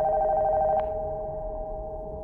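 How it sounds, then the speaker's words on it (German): A telephone ringing upstairs in the horror video game Nocturnal Visit, a sustained electronic bell tone that holds steady and slowly fades, heard alone. "Telefon von oben ist am Klingeln."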